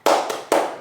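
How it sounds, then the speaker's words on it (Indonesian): Children's rhythmic tepuk semangat hand clapping in an Indonesian elementary classroom, with two sharp, close claps spaced about half a second apart, each ringing briefly. "kita tepuk semangat yuk"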